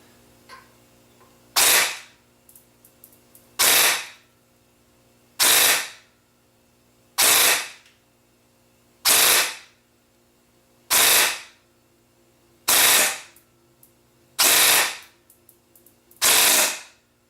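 Battery-powered rifle fires full auto in nine short, loud bursts spaced about two seconds apart, each a sharp rattling buzz, with a faint mechanical hum between them and no talking.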